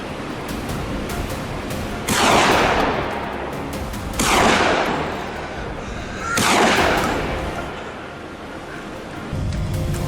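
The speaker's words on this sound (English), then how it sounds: "One cold shot rang out," Rifle shots during a wild boar hunt, three broad sharp blasts about two seconds apart, each with a trailing rumble, over steady outdoor background noise.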